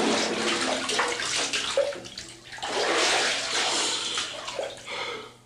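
Water sloshes and splashes in a filled bathtub, a body moving and sinking under the surface with gurgling, bubbly swirls.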